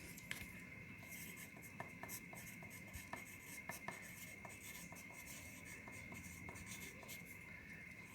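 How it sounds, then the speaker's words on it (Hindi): A pen writes an arrow and a label onto a paper map, faint scratchy strokes with a few light taps over a steady background hum, no voice. "और इसको हम एरो लगा के यहीं लिखेंगे।"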